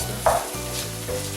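Ground beef browns in a frying pan, a close steady sizzle with a spatula scraping and stirring through the meat in a couple of short bursts, no one speaking.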